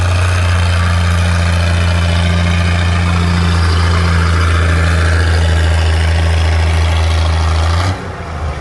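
Super 88 diesel tractor at a tractor pull, pulling a sled with a loud, steady engine drone close by, holding strong for most of the stretch before the engine note drops near the end.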